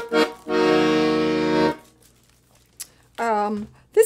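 A new black Parrot Cockatoo LMM 34/72 piano accordion plays chords from its bass side counter-bass row: one long sustained reedy chord, then a shorter one after a pause, with brief voice sounds at the edges.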